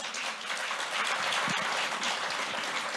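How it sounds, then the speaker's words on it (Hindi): An audience at the Living India News Conclave in Punjab breaks into applause, a dense, even roar of clapping that holds steady for a few seconds. "इसके लिए तालियां बजनी चाहिए।"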